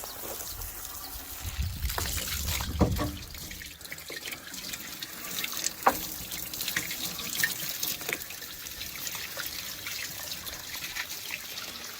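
Running water rinsing a transmitter circuit board, a steady splashing tap stream with trickles and a few sharp knocks, close and continuous with no talk.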